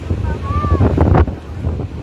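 Strong afternoon waves on the beach at Lingayen, Pangasinan: a loud, continuous rumbling surf heavily buffeted by wind noise on the microphone, with someone talking over it.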